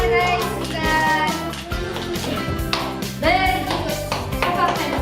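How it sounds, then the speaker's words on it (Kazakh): A group of children clapping hands, with a continuous patter of close claps under an adult voice and children's chatter, loud throughout. "Шапалақтаймыз балалар. Қолдарды."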